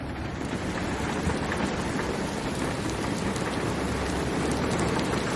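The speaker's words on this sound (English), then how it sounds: "looks like it's starting to thunder outside. It's probably going to start pouring here real soon." Heavy rain pours steadily outside a van in Arizona, a dense, unbroken hiss of drops at close range with low rumbling beneath and no talking.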